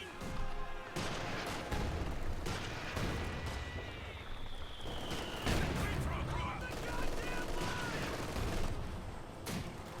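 MG42 machine gun fire in the video game Company of Heroes 2, dense bursts of rapid gunfire and booms across a busy battle soundscape, heard under a commentator's voice.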